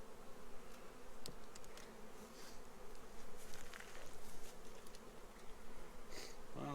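Honey bees buzz at a backyard garden hive being prepared for fall, a dense, steady drone of many insects close by with no talk over it.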